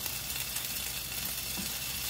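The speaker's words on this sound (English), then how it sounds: "I'm gonna stir this a little bit more." Bok choy searing in a hot pan, a dense, steady hiss of sizzling oil with a faint stir, loud and close, no voices.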